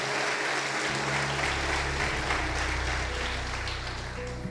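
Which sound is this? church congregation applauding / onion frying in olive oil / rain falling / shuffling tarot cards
church congregation applauding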